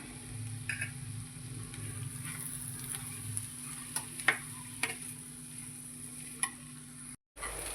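Kerala-style chicken thoran fries in a pan with curry leaves while a spoon stirs it, giving a soft, steady sizzle broken by occasional scraping clicks. It is close and fairly quiet, with no speech.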